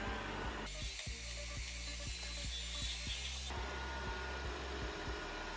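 A Tesvor X500Pro robot vacuum cleaner runs close by, with a continuous whirring motor and a regular ticking pulse from its brushes, growing brighter and hissier partway through as it sweeps under stools.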